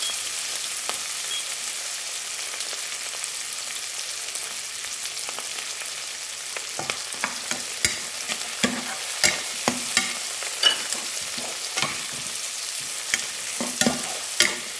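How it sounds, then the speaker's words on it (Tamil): Fennel and spices sauté in sesame oil for a Jaffna-style fish sothi, a soft steady sizzle that picks up crisp pops and scraping stir strokes partway through, with no voices. "பெரிய சீரகம் எல்லாத்தையும் போட்டு அந்த நல்லெண்ணெய்க்குள்ள அழகாக நான் வதக்கி எடுக்கிறேன்"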